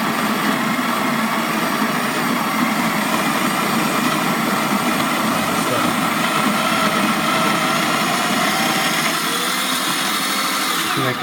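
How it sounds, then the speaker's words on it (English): Bodum electric coffee grinder grinding coffee beans, a loud continuous high-pitched whirring buzz that holds steady for several seconds, then shifts slightly in pitch as the beans break down. "You get this grinder at Amazon as well. It's called Bodum. And I just turn it on."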